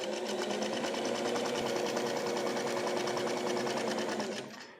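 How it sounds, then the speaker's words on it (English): A sewing machine runs steadily, putting decorative cross stitches into the back of a pair of pants made from fabric scraps, its needle chatter fast and even until it winds down at the very end. "So I'm putting in these cross stitches to match"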